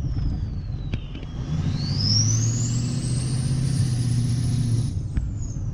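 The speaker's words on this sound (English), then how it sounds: "I'm okay with listening to that turbo sound." A Ford 6.0 Powerstroke diesel truck drives along with a steady low engine rumble, and a rising turbo whistle climbs and holds for several seconds before fading. No one speaks.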